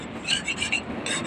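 Sandpaper rubbed by hand over a surface during maintenance work, a series of close, gritty rasping strokes in uneven rhythm with brief pauses between them.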